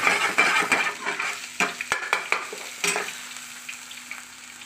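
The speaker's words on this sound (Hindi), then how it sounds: "इसमें अदरक लहसुन का तेल डाल दिया है, इसको अच्छे से मिला लेंगे" Ginger-garlic paste and onions fry in hot oil while a spoon stirs the pan for a chicken handi, giving a steady close sizzle broken by scraping strokes and light clinks of metal against the pot.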